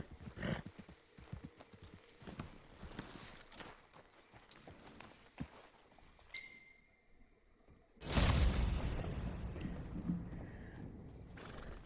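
Horse hooves clip-clop at a walk in the Red Dead Online video game, a steady rhythm of soft hoof strikes, followed after a brief lull by a loud burst of game sound and a horse neighing.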